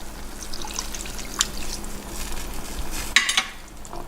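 Pork belly and coconut milk stirred together in a pan over medium-low heat, giving a steady wet bubbling and scraping with a few louder clacks of the utensil against the pan.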